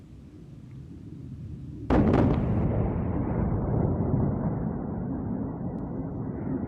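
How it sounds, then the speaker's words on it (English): Massive explosion in Tehran, with a sudden loud blast after a quiet start, then a long, rolling rumble that slowly fades but stays heavy, with no voices. "Massive explosions there in Tehran."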